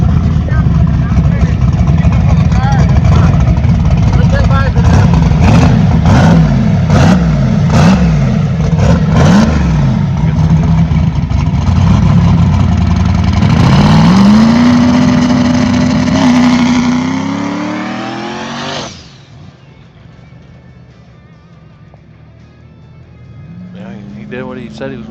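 A turbocharged Saturn car roars loudly through its burnout and hard acceleration, its engine pitch climbing and surging for many seconds before it cuts off abruptly, leaving quieter rumbling and a distant revving as it rises again.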